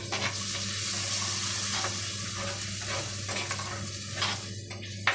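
Tamarind water being stirred into a mackerel curry with ground green peppercorns in a pan, a steady close sizzle under repeated scraping stir strokes, no voices.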